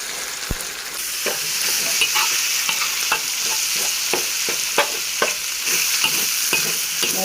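Fried pork and shallots stir-fried in a pan, a continuous sizzle punctuated by regular scraping strokes of a spatula, close and fairly loud.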